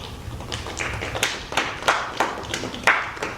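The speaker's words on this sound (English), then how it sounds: "It's well worth clapping." Audience at a school board meeting clapping after a vote accepting donated funds for a robotics program; scattered, sparse hand claps in a room, several sharp individual claps rather than full applause.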